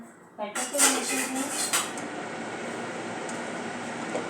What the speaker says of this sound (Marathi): याला मॅश करून घेऊया